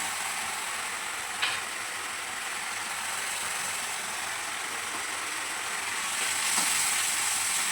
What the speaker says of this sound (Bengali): এটা এবারে কষাতে হবে এক দুই মিনিট ধরে কষাবেন